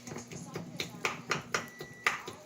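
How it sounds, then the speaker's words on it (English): A knife chops small steaks on a board in a home kitchen, with a run of evenly spaced, crisp taps while someone talks over the cutting. "And now I'm going to start chopping with the knife my steak."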